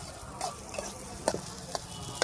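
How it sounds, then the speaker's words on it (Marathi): Goat brain bheja fry is stirred in a pan, a soft steady sizzle under a few light scrapes and taps of the spatula, close and fairly quiet. "आता याला थोडंसं हलवून घ्यायचं"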